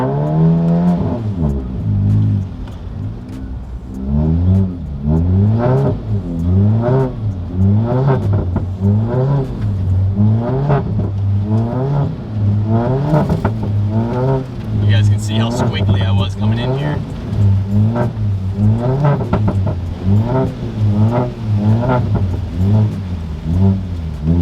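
A big-turbo MK7 Volkswagen GTI accelerating on a snowy, icy road, its engine note rising and falling in repeated revving sweeps through the gears, loud and close throughout, with people talking over it.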